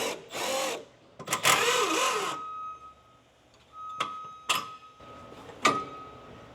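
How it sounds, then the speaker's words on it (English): Power tool working on car rear suspension bolts on the sway bar, strut and lower control arm: a couple of whirring bursts, then several short sharp impacts with a faint lingering tone between them. "So we have to first unbolt the sway bar, the strut, and the outer part of the rear lower control arm."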